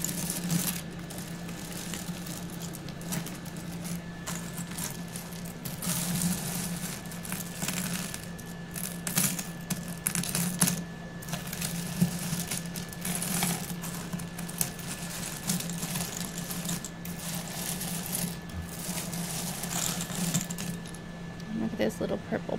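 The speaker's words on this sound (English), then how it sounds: "Hope you're enjoying these button sounds" Buttons are handled and dropped close to the microphone, giving a steady run of small plastic clicks, taps and light clattering over a faint background hum while a soft voice speaks.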